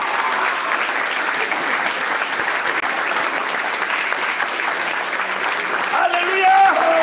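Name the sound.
church congregation applause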